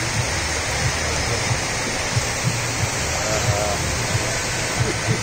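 Floodwater from heavy rain in Dehradun rushes through a street in a loud, steady roar, with faint thuds and splashes scattered through it and no clear voices.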